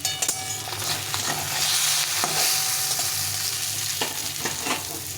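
Fish and potatoes fry in a pan with a loud, continuous sizzle, broken by repeated sharp scrapes and knocks of stirring.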